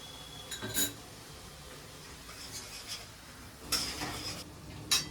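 Ginger paste added to hot tempering spices in a pan while cooking a potato dish, a quiet steady sizzle with a few light clinks and scrapes of a spoon stirring against the pan.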